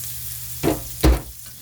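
Onions hit a hot pan that had just been used to cook tofu, giving two short, close sizzling bursts about half a second apart over a quiet background.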